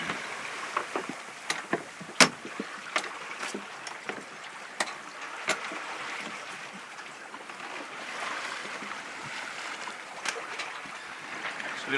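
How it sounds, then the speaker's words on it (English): A sailboat under way in slowly building speed, with water rushing and sloshing steadily along the hull and scattered sharp knocks and clicks from the rigging, close and fairly quiet, no talk. "And we're sailing away now. Look at that. You can hear it."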